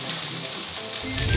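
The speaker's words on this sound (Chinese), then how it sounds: "我们转小火哦，慢慢的给它煎" Black pepper bean paste pastry pan-frying over low heat, a steady close-up sizzle and crackle of oil running continuously without any talk.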